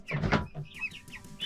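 A rooster and his hens in a chicken tractor on an off-grid homestead give a burst of close, loud clucking followed by softer, higher chirps and murmurs.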